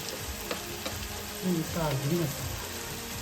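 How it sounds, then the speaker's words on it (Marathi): Onion and tomato softening in a pan, a faint continuous frying hiss with light stirring clicks, while a voice murmurs briefly partway through. "कांदा आणि टोमॅटो थोडा शिजला पाहिजे असं नरम झाला पाहिजे"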